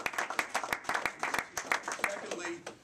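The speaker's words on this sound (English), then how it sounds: "So give yourself a round of applause." A small group claps in a loose, uneven rhythm after a college basketball season recap, individual hand claps distinct and close, with a voice speaking underneath toward the end.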